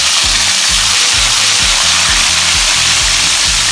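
Potatoes sizzle and splutter in hot mustard oil in a pan, making a loud, steady, close hiss of frying that carries on without a break, with a low rhythmic hum beneath it.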